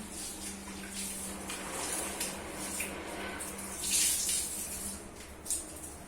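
A carpet is washed with plenty of water, a steady close rush and splash of running water that surges briefly, with no talk.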